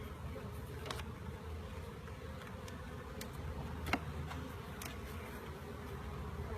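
Bees buzz faintly around a hive, a thin continuous hum with scattered brief close passes and light ticks over a low background drone.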